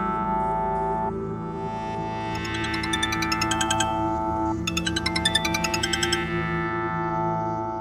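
An electronic phone ringtone plays a repeating melodic pattern in two bursts over a steady background tone, fairly loud and close.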